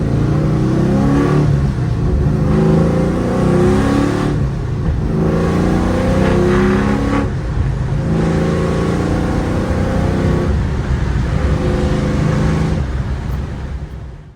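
A car with a freshly rebuilt engine runs on its first test drive, a loud steady engine drone with road noise that rises and falls through several revs over about fourteen seconds, with no talking.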